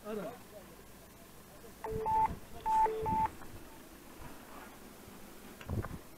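Keypad tones of a telephone number being dialed on a phone, several short beeps in two quick bursts, fairly close, with faint rustling and low background noise, dialed during a roadside emergency call on an icy Erzurum road.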